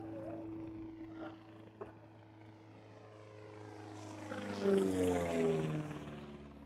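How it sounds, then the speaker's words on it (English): A propeller airplane passes overhead during an evening saltwater bass fishing session, its droning engine hum rising and falling with a swelling pitch sweep as it nears, heard steadily outdoors with no talking. "Look at this airplane."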